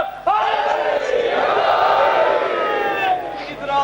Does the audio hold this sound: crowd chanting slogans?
yes